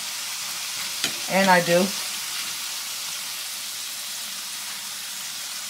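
French fries sizzle steadily in hot frying oil as the basket is shaken, a constant bubbling hiss with a brief spoken phrase over it near the start.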